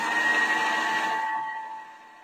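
A Thermomix food processor turning semolina on reverse at speed 3.5 gives a steady motor whir with a fixed pitched hum, close and fairly loud, then winds down and fades as it stops.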